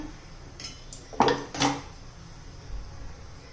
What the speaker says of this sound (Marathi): तर हे पहा हे बाजूला ठेवूया आणि पातेलं ठेवूया.